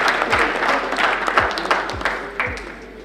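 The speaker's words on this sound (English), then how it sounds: "A hand of applause, ladies and gentlemen." Audience applause at a capital market university challenge awarding ceremony: a crowd's clapping, fairly loud and continuous, with several deep booming thumps breaking through it.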